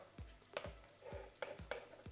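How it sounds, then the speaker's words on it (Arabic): A knife chopping vegetables, including sliced peppers, on a cutting board, with about six sharp, close thuds in a loose, uneven rhythm against a quiet background. "على ما الحاجه بقى تستوي اكمل انا تقطيع الايه الخضار"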